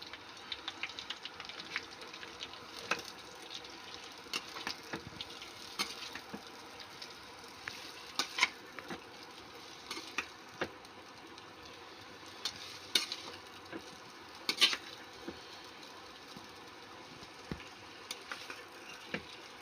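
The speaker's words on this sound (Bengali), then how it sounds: "দেখুন বন্ধুরা পেঁয়াজ লঙ্কার সাথে আমি চাউমিনটাকে ভেজে নিয়েছি" Boiled chow mein fries with onion and chili in a pan, giving a soft continuous sizzle broken by frequent sharp clicks and scrapes from stirring, close and fairly quiet.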